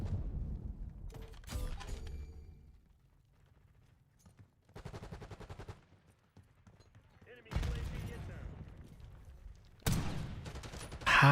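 Gunfire from a Call of Duty match in which a pistol is up against an SMG, heard as bursts of shots and mechanical clatter in separate loud bursts between quieter gaps, with talk over parts of it.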